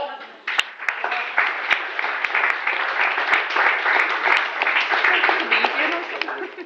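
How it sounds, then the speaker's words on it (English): Wedding reception guests give the couple a hearty round of applause, with many close, sharp individual claps merging into a lively, sustained crowd clatter, along with some voices. "So I think we start off with a good round of applause for Alan and Gina."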